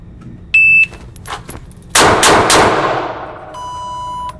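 Several sharp Ruger LCR revolver gunshots crack at an outdoor shooting range, fired close together in a quick string, with electronic beeps from a timer before and after.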